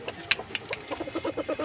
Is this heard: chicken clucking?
yes